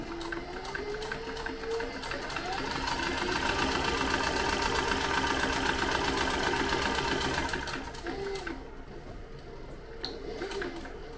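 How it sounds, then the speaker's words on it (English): A sewing machine stitches across the top of a leather zippered tote bag in a fast, steady mechanical whir, then slows and stops near the end, with no talking. "And then sew across the top and back stitch at the other end and call it good."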